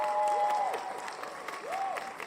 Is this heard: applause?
yes